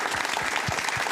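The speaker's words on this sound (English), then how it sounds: "just a round of applause" A town council meeting audience applauds retiring council members, a dense steady wash of clapping from a room full of people, sustained throughout.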